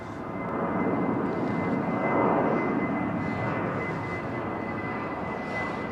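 An Airbus A220 jet airliner rumbles on the runway at London Heathrow, a broad, steady roar that swells around the middle and then holds, heard from a distance with no talk.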